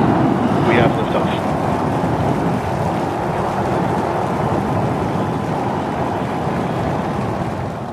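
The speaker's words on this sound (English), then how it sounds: "3, 2, 1. We have liftoff." SpaceX's Starship lifting off on its seventh flight in January 2025 produces a loud, continuous broadband roar. The rumble is sustained and steady for about eight seconds, easing slightly at the end.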